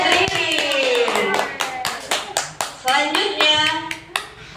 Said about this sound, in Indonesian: Tepuk tangan buat Ririn.